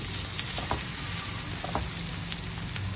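A crispy Punjabi onion laccha paratha, brushed with oil, sizzles steadily in a hot pan, a dense continuous crackle with a few louder pops and no voices.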